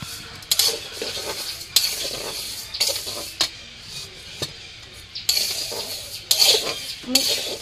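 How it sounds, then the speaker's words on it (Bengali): Lentils for khichuri are dry-fried in a large pot, heard up close as repeated scraping strokes of a spoon against the metal over a low sizzle, in irregular bursts with short pauses between them. "চলো ডালটা ভেজে নিই"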